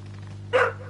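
A single loud bark from Murphy the dog, one brief burst midway through, over a steady low hum with no talking.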